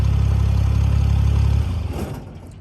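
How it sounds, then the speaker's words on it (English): Engine of a Haulotte 55XA boom lift idling steadily and loud, then cut off partway through, the rumble dropping away into a fading, quieter wind-down. "So I'm gonna kill the engine here"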